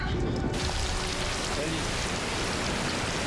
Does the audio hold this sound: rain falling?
yes